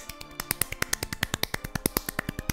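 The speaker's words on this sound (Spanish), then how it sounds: "Aplaudo todo lo fuerte que puedo y todo lo rápido que puedo" Hands clap loudly and fast, a rapid string of sharp, close claps at an even quick tempo with no talking over them.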